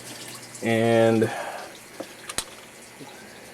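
Water siphons out of a 75-gallon aquarium tank into a sump. A brief gurgling rush is followed by quieter trickles and a few sharp drips, and a voice speaks briefly.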